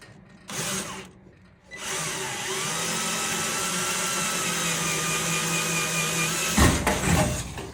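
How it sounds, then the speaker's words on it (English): A power drill bores a hole through the metal panel of a Samsung electric dryer, model DVE50R5400W, with a sustained loud whine after a brief start and a rough grinding finish as the bit breaks through. "get the bit to stay in the spot you're drilling."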